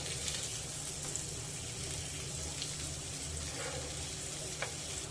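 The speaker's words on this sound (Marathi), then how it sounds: "आता आपण तुकड्या पलटून घेऊया तुम्ही बघू शकता किती छान कलर आलेला आहे" Fish pieces sizzle in hot oil in a pan, a dense, steady frying hiss that fills the whole stretch at close range, with no talk.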